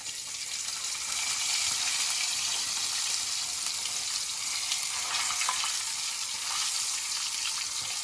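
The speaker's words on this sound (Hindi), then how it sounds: "ये हम फ्राई कर रहे हैं।" Steady, broad sizzle of fish pieces frying in a pan of hot oil, skin side up, a continuous hiss at moderate level that holds evenly throughout without talk.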